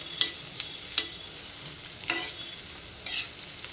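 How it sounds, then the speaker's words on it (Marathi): Chopped medium onion and tomato being sautéed in a pan for egg bhurji, a soft steady sizzle with occasional scraping stirs of a spatula, fairly quiet and close, without talk. "आता आपण हे परतूया व्यवस्थित।"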